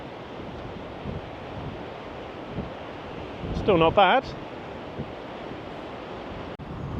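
Steady surf and gusting wind at a windy seaside spot in Somerset, a broad continuous roar with microphone buffeting throughout, and someone briefly speaking near the middle.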